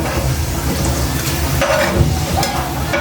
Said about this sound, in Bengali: দিলাম পেঁয়াজ কুচিকে আমি ভালো করে ভেজে নেব।